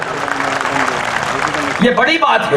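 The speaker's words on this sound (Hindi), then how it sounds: "दोनों हाथ उठाकर इस बात पर भी ताली बजा दें आप लोग" Audience at a Holi festival poetry gathering clapping, a broad wash of many hands applauding steadily, overlapped by someone speaking loudly over a microphone near the end.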